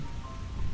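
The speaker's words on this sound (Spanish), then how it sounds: "empezaron a oír nuevamente la intensa lluvia que caía a chorros" Heavy rain pours down in a loud, constant hiss of drops drumming on surfaces, dense and unbroken, with no speech.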